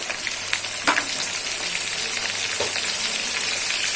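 Potatoes fry with salt and turmeric for aloo dum, giving a steady, close sizzle with a few sharp clicks and scrapes from stirring.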